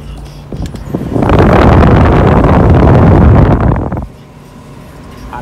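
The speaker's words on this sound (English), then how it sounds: "AC blowing cold." Cold air from the air conditioning of a 2013-2016 Nissan Caravan NV350 makes a loud, close broadband rush that swells for about three seconds and then drops back to a quieter hum inside the van.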